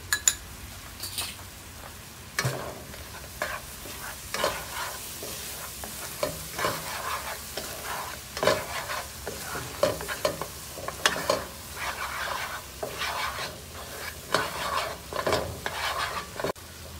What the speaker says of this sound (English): over medium heat, you want to stir it, the mung bean into a paste